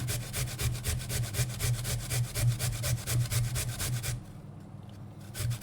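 Potatoes are grated by hand on a grater, a close, rhythmic rasping stroke repeated quickly and evenly for about four seconds before stopping.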